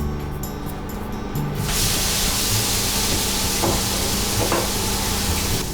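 A loud burst of sizzling as a Japanese hamburger steak patty hits a hot frying pan, then a steady close crackling hiss with faint pops.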